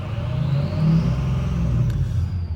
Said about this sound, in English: you guys watch as I rev it up